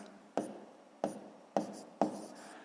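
A pen writes out a sixth-grade fraction calculation on paper: four short, close scratchy strokes spaced about half a second apart, with no voices.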